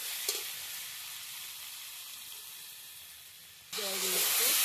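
Cumin paste and spices fry in a pan with a steady, soft sizzle and hiss that swells into a louder burst of spitting near the end, as water is added.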